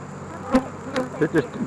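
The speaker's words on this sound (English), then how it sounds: "Just walk over behind her and shake the bees out in the grass" Honey bees buzzing around nearby, a steady hum with several brief louder passes as insects fly close.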